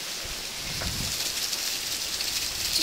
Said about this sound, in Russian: Видите, да, вы видите дождь.